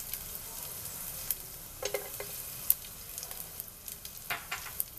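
Finely chopped garlic cloves frying in melted fat in a pan, a soft, quiet sizzle with a few sharp stirring clicks and scrapes scattered across it.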